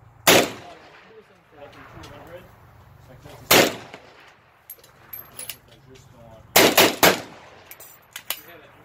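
Several loud, sharp SKS rifle gunshots ring out at a firearm convention, spaced a few seconds apart, with a rapid double or triple burst near the end, while people talk in between shots.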